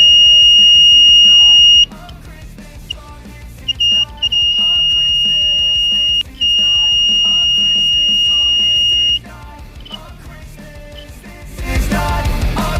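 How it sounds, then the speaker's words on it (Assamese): A loud electronic buzzer on a simple DIY water level indicator sounds as the tank fills, in long steady tones broken by short gaps, then stops, followed by a burst of rushing noise. "টেংকিটো ফুল হোৱাৰ লগে লগে এনেকৈ বাজাৰটোৱে সাউণ্ড কৰিব"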